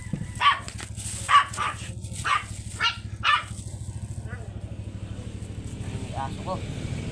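A dog barks five times in a quick, fairly even series over a low, steady engine hum, then falls quiet.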